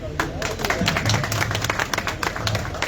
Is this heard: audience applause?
yes